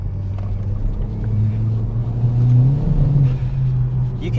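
A 300bhp Seat Leon Cupra Mk1 with no traction control revs hard from inside the cabin, a steady low engine drone that swells and rises in pitch as the wheels spin up, with no talk over it.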